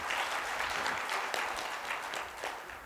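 Audience applause at a Shri Krishna katha religious discourse, a steady dense clapping that fills the whole stretch at moderate loudness with no talk over it.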